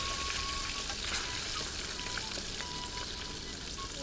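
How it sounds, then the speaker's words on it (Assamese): Pieces of fish half-frying in hot oil for a mustard fish curry, giving a steady, dense sizzle and crackle that runs evenly throughout with no talking. "আধা ফ্ৰাই কৰি লৈছোঁ"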